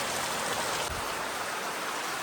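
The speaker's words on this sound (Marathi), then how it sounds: "जोरदार पाऊस आहे गावाला आता." Heavy rain pours down in a village, a dense, steady roar of drops striking surfaces, close and loud with no voices.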